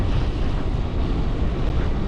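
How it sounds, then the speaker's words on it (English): Wind roars and buffets a helmet-mounted action camera on an e-bike ride at sunset, a loud, continuous low rumble with no voices. "Oh, the wind is bad at the moment as well."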